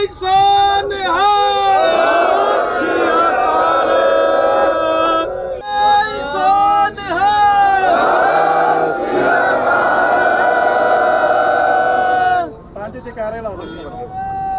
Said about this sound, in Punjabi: ਜੈਕਾਰੇ ਲਾਓ ਜੀ।